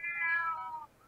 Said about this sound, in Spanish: ¿Qué le pasa al gato ese?